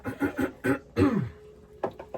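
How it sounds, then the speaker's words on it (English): Someone clears their throat several times in quick, rough bursts, close to the microphone, ending with another short rasp after a pause. "I'm suddenly feeling this need to clear my throat now that I'm in this space"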